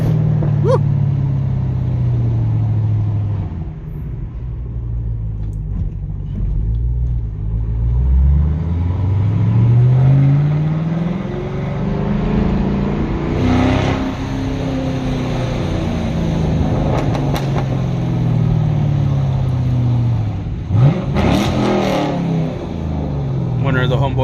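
A fifth-generation Chevrolet Camaro SS V8 rumbles and revs in bursts, its engine note rising and falling repeatedly over about twenty seconds, heard fairly close with some background noise.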